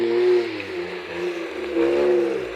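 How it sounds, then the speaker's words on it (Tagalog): A Hyundai i8 engine hums and revs steadily at close range while driving through flood water, with a low rumbling drone that rises and falls slightly. "Ayan, nakatawid yung kotse."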